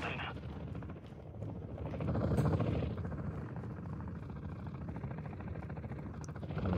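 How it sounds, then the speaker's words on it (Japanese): A helicopter in the Call of Duty DMZ video game throbs with a steady rotor chop that swells and fades across the clip, mixed with other game sounds. "ヘリうるせえ。"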